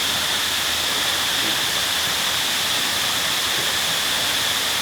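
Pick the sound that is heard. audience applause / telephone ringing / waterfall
waterfall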